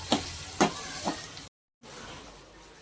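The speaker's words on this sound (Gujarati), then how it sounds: "હવે તો ખાલી ગોટા જ તળવાનો છે અમારે" Gram flour batter gota fritters, made with potato and flattened rice, frying in hot oil: a steady close sizzle with a few sharp crackling spits, cut by a brief silent gap before the hiss resumes.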